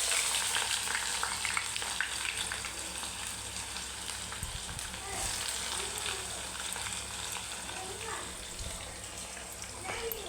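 Onion frying in oil with whole spices for soybean biryani, a steady broadband sizzle held close throughout, with a few faint low knocks and soft voice-like murmurs in the background.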